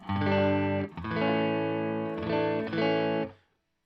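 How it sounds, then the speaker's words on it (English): Electric guitar chords crunch through an overdrive distortion pedal, loud and sustained, with a few chord changes before cutting off into silence. "Very usable stage 1 overdrive."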